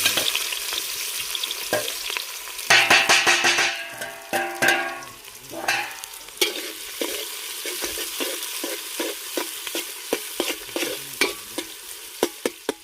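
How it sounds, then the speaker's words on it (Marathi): Onion drops into hot oil for mutton soup cooked outdoors, sending up a loud burst of crackling sizzle that settles into a steady fry, punctuated by repeated close clicks and scrapes of stirring. "तेल गरम झालं, कांदा भाजून घेऊ"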